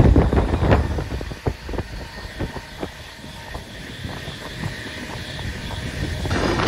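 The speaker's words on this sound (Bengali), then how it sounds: "কাঞ্চনকন্যা এক্সপ্রেস 100-র উপরে এখন স্পিড নিয়েছে" The Kanchankanya Express, a passenger train running at over 100 km/h between Kolkata and New Jalpaiguri, heard from on board as a rushing wind roar with irregular wheel clacks and thumps, loud at first and then easing to a steady rumble.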